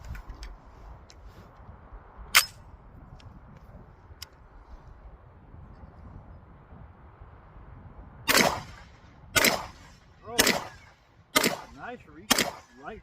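A Bear Creek Arsenal .300 Blackout AR rifle with a 10.5-inch upper fires five or six sharp shots at an outdoor range, spaced about a second apart near the end, after a long quiet stretch that has one earlier distant pop.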